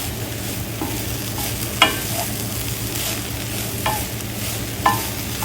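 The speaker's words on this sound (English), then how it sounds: "you just want to make sure that you stir fry it for a couple of minutes" Sweet potato stir-frying in a pan gives a steady low sizzle, broken by a few sharp spatula scrapes and knocks against the pan at irregular intervals, with no voices.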